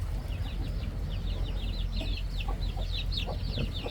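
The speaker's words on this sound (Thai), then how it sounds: "พวกลูกไก่พวกนี้นะครับ" Many small Yer and Yip Man game-chicken chicks cheep and peep continuously in high, chirpy bursts, with a steady low hum underneath.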